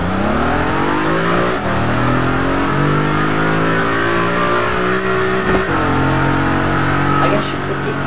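An Audi car engine in the racing game Test Drive Unlimited 2 drones loudly at a steady pitch, with a few brief dips and shifts in revs, playing continuously under a voice.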